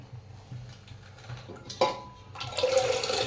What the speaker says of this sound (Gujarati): ગેસ ઉપર પાણી મૂક્યું છે હવે એની અંદર આપણે ચણા નાખી દઈએ